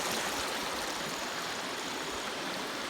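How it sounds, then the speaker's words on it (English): Water from a side creek in the bush rushes steadily nearby, a continuous broad hiss with no pauses and no voices. "But also water is coming from this side creek."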